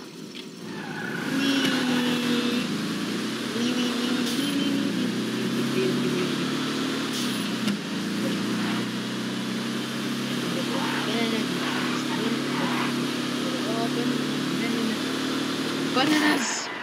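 A BF Weevil car engine in GTA 5 revs and drones steadily at close range, its pitch rising and falling with throttle and a few tire squeals, while a player talks over it.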